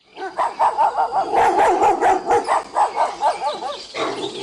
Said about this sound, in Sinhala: ඒ බල්ලා.